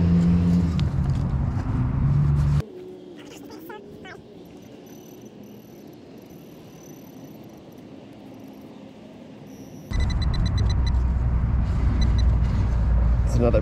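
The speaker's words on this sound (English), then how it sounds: "road noise. We're right up against a highway and a street." Loud, steady roar of passing highway and street traffic, close by, drops away to a quieter rumble with faint insect chirps before the roar returns.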